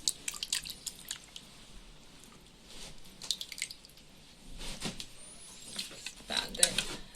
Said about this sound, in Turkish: Biz bunu beyaz bir tülbentte annemle birlikte süzeceğiz.